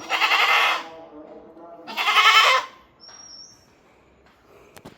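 A goat at a livestock sale gives two loud, close, wavering bleats about two seconds apart, followed by near silence with a brief faint chirp and a few small knocks.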